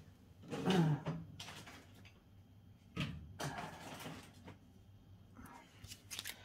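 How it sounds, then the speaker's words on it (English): A desk drawer rummaged through for papercraft supplies in a card-making workspace, with wooden sliding and knocking bursts, a louder clatter early on and another midway, amid soft handling noises. "I'm sure I can grab some out of my drawer."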